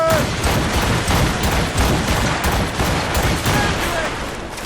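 A volley of ship cannons in Assassin's Creed Rogue, a naval battle at sea, booming in a loud, dense run of overlapping blasts that fills the whole stretch.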